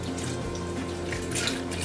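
Trader Joe's almond milk pours into a Vitamix blender jar in a steady, close, gurgling stream that runs unbroken from start to finish.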